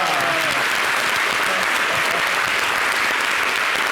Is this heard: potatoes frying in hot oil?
no